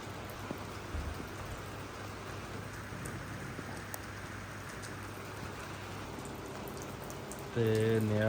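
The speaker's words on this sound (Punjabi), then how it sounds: "ਰਾਤ ਦਾ 2:30 ਵਜੇ ਦਾ ਟਾਈਮ ਤੇ ਹੁਣ ਬਾਰਿਸ਼ ਸ਼ੁਰੂ ਹੋ ਗਈ" Heavy rain falls steadily through the night in a village, a dense even wash of drops on surfaces throughout, with a brief burst of voice near the very end.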